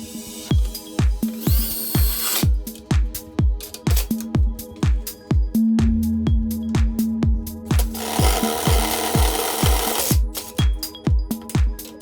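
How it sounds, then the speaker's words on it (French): Self-drilling screws driven with a 10 mm socket on a power driver during a bathroom partition build, rapid rhythmic impact clatter with a motor whine rising in bursts, loud and close. "Douille de 10, les vis autoforeuses et on visse."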